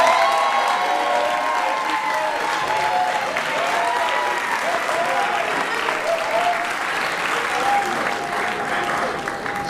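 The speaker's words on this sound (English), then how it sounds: "Please stand up and one applause for Valerie Beeson." Audience applause at an awards ceremony honoring a community service award recipient, sustained loud clapping from a large crowd with some cheering and voices mixed in.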